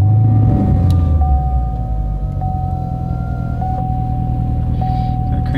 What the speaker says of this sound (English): Let's get the car started